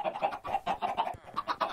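Chickens in Minecraft cluck in a quick run of short, bright, repeated calls, fairly close and unbroken by any voice.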